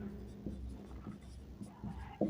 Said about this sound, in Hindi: तो लिखते हैं समीकरण